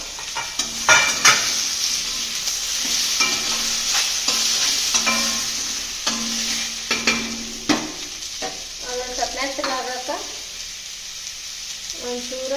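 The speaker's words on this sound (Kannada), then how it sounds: "ಇವಾಗ ನಾನು ಇದಕ್ಕೆ ಟೊಮೆಟೊ ಹಾಕೊಳಕತ್ತೀನಿ ಟೊಮೆಟೊ ಒಂದು ಸ್ವಲ್ಪ ಫುಲ್ ಮೆತ್ತಗಾಗುವಂಗೆ ಫ್ರೈ ಮಾಡ್ಕೋಬೇಕು" Tomatoes and onions frying in a pan for tomato chutney, a constant close sizzle with repeated scraping stirs and a few clinks of a spoon against the pan.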